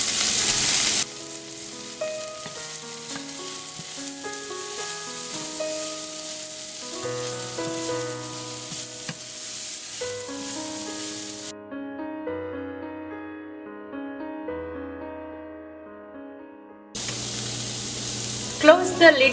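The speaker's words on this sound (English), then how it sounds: "Slowly mix everything together and roast it for 1 to 2 minutes." Paneer and mixed vegetable filling with masala, cumin and coriander powder and salt roasts in a pan, giving a steady soft sizzle under background music, with a louder stretch near the start and end.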